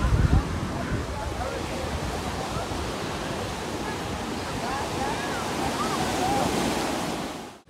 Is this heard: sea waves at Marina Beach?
yes